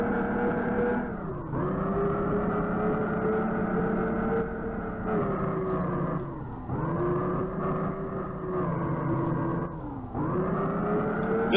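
A car engine in the racing video game REVHEAD revs hard and accelerates, loud and continuous, with its pitch dropping briefly at three gear changes before climbing again; no other sound competes.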